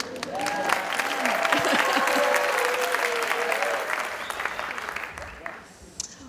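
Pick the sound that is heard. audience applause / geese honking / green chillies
audience applause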